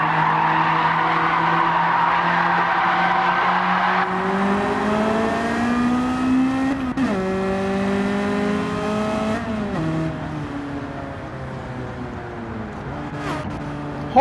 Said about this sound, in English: You hear my car coming?